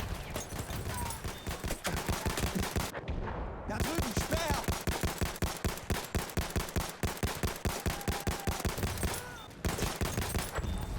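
M1917 Carbine Patrol gunfire in Battlefield 1 crackles in rapid, rhythmic volleys across a busy battlefield, with overlapping distant shots and someone talking over the action.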